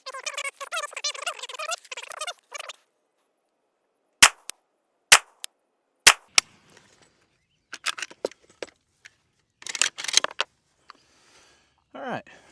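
A Saiga rifle fitted with a Texas Weapon Systems Gen3 dust cover fires single shots on an outdoor range. After a voice speaks, four sharp, spaced cracks ring out, followed by quieter scattered knocks and rustles.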